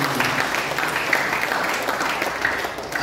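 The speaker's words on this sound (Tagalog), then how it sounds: "magsabi ng amin, at pumalakpak ng malakas po sa amin" A church congregation claps loudly and steadily, a dense sustained wash of applause that fills the room without pause.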